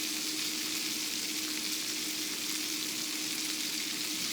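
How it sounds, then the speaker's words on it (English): Diced onions and mushrooms fry in a pan over medium heat, giving a steady, even sizzle with no breaks. The sound is moderately quiet and close, with no voices. "So I'm gonna cook this on medium heat until the onions and mushrooms are nicely caramelized"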